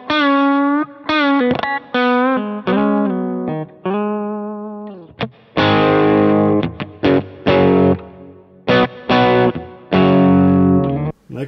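Electric guitar through a Fulltone OCD overdrive on a low drive setting, recorded via a Kemper profiling amp: sustained clean-ish chords and bends give way to choppier, grittier chords and stabs, loud and up front with short gaps between phrases.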